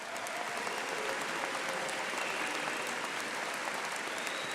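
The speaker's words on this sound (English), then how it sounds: "Please join me in congratulating all of our baccalaureate graduates from the College of Biological Science." Sustained applause from a large university convocation audience congratulating biological science graduates, an even wash of many hands clapping at moderate loudness without pause.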